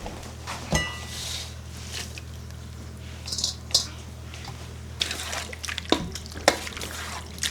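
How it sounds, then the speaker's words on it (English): Canned kidney beans rinsed under running water in a kitchen, with close squishy splashing and dripping over a steady low hum, the water flow stopping and restarting with a few clunks. "I'm gonna go rinse off some more kidney beans."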